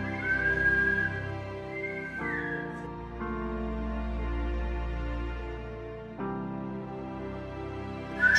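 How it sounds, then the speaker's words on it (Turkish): Long whistled tones of the Kuşköy whistled language, taught to children, rise and fall in sustained phrases over a low background drone, clear and fairly close with no speech. "Çocuklar tıpkı yabancı dil eğitimi alır gibi ıslık dilini öğreniyorlar."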